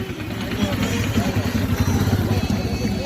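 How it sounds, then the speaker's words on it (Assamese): A fire service motorbike rolls past in a Republic Day parade at a stadium, its engine putting out a steady mid-pitched putter with clatter, heard over crowd noise and voices. "গেলেৰীৰ সন্মুখেৰে এয়া ফায়াৰ ছাৰ্ভিচৰ ফায়াৰ বাইক"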